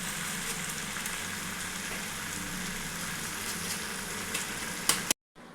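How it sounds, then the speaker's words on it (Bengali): Vegetables sizzle steadily in a hot pan with Maggi masala for veg chowmein, a constant close frying hiss that cuts off abruptly at the end. "আমাদের সবজি ফ্রাই করাটা অলমোস্ট হয়ে গেছে"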